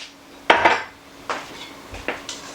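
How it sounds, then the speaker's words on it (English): A spoon stirs cornstarch slurry into beef tips in an Instant Pot's metal inner pot, making a few distinct, close clanks and scrapes spaced irregularly, with no one talking. "now I'm just going to stir it until it thickens up"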